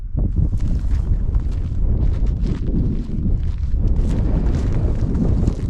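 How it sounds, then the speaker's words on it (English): Strong gusty wind buffeting the microphone on a riverbank at the mouth of the River Usk, a loud continuous low rumble and roar with no voices. "And I'm sorry about this wind. I literally am getting blown away."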